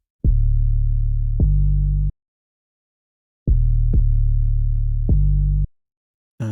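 808 bass processed with Ableton's Erosion effect: deep, sustained booming notes with sharp attacks, played in a halting pattern of two pairs separated by a pause, with a short final hit, no voices.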